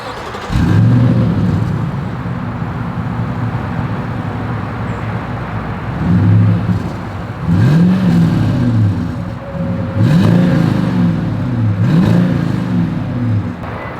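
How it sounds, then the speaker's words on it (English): 2022 Toyota Sequoia with a single exhaust outlet, engine idling then revving up several times in short loud bursts that fall back to idle, close by with no talk. "As always, here is that exhaust clip."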